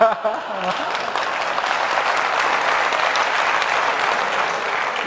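A large audience at a positive-thinking lecture bursts into sustained clapping, a loud, dense wash of many hands that starts abruptly and holds steady for around five seconds, with faint crowd murmur mixed in.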